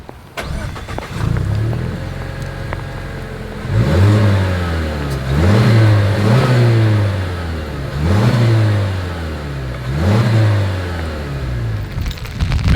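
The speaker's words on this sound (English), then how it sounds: "As always, here is that exhaust clip" A 2024 Mazda CX-50 starts up and revs through its dual chrome-tipped exhaust, giving four or five rising and falling engine swells over a steady idle, recorded close with no talking.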